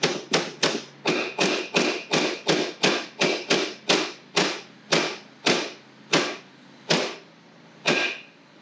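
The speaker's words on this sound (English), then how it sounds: "you gotta beat it with a hammer" A hammer strikes a metal pin on a Go Power Sports MB200 minibike in a steady series of about twenty sharp taps, quick at first, then slowing to spaced final blows, close and loud.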